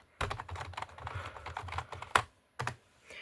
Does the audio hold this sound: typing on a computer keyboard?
yes